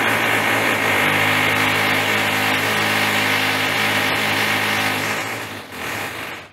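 Construction work on the other side of a connecting wall, with a pile driver and drills, gives a loud, steady mechanical roar and whine that reverberates through a house, then dips near the end.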